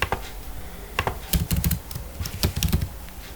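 Fingers type on a computer keyboard in quick, uneven bursts of crisp, close key clicks while someone enters menu item text for a Java notepad program.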